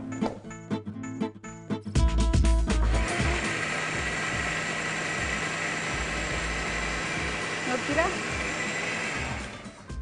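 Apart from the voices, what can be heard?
mixer grinder grinding chutney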